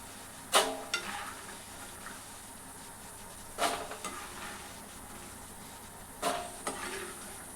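Peanuts dropping into hot oil in a pan while cooking tamarind rice, giving three short crackling bursts that settle into a steady low sizzle, close and moderately quiet with no talking.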